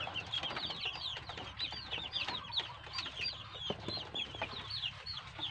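Domestic farm chickens cluck and chatter continuously close by, raised for the household's food alongside ducks, with busy overlapping calls and no talk.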